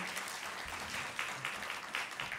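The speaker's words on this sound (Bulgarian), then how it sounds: "Още веднъж аплодисменти." Audience applause at a young talents' music evening concert, a dense steady clatter of many hands with no talk over it.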